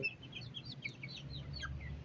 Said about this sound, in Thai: ลูกไก่ดำมองโกครับ